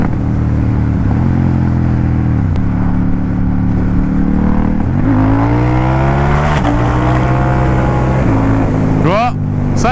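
Ducati Diavel motorcycle revving hard and pulling away, the engine note rising in loud sweeping steps through the gears, sustained and close, with someone talking over it.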